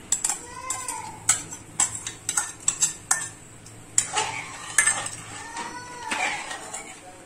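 A spoon stirs sweet mawa into reduced milk in a pot, making a series of sharp metallic clinks and scrapes at an uneven rhythm over a soft simmering background.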